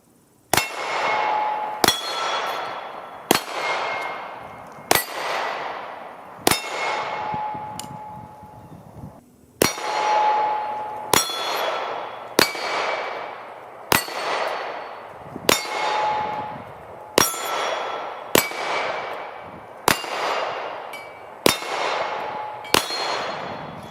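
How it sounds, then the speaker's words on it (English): Fourteen sharp metallic clangs from 9mm pistol rounds striking steel targets ring out at a steady pace, each with a bright ringing decay, fairly close and loud with no talking. "the sound of metal targets giving instant feedback"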